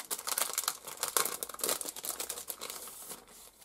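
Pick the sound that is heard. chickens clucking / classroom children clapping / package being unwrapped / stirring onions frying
package being unwrapped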